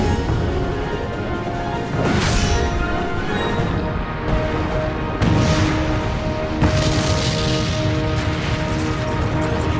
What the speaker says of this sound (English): Followed by an epic explosion,